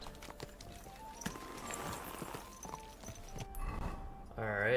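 Steady clip-clop of horse hooves at a trot in Kingdom Come: Deliverance, with a person talking over it and other game sounds mixed in.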